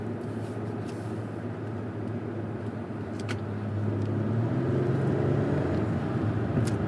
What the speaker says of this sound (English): We're going to do this corner on throttle,